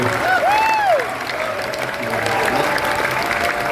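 Audience at a band's final concert clapping and cheering for the show's crew, a steady wash of applause with a few whistles and whoops early on, loud and continuous.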